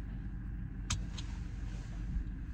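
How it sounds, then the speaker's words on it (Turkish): Steady road traffic rumble from passing cars, fairly close, with a brief rattle near the middle; no talking. "şuradan demişler arabalar geçmeye çalışıyor"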